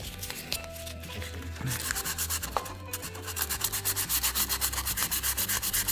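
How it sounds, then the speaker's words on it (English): Steady rhythmic hand sanding on a carved Celtic weave in wood, rasping back-and-forth strokes that speed up into a quick, even scrubbing pattern toward the end. "we're just sanding it all over just to refine the finish of that Celtic weave"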